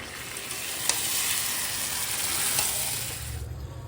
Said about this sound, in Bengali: আর এই দিকে হচ্ছে খাসির মাংস যেটা কষানো হচ্ছে